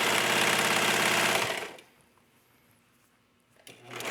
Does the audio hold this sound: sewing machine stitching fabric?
yes